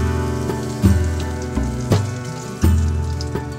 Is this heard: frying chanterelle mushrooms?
yes